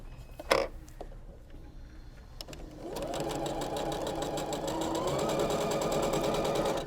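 A sewing machine fitted with a 1/4-inch presser foot stitches a quilt seam, starting after a few clicks and handling knocks, then running in a steady, close, rhythmic whir that continues for several seconds.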